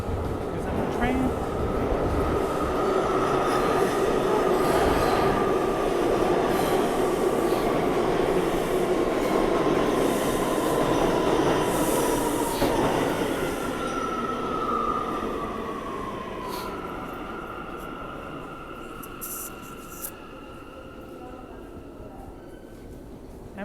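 A New York City subway train rumbles loudly through a quiet station, wheels roaring and squealing, then the noise slowly fades as it moves away.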